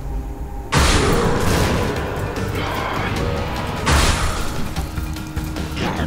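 A loud, sustained boom as a bomb goes off in the video game Binding of Isaac: Rebirth, a heavy blast that fills the mix, followed by a second burst a few seconds later.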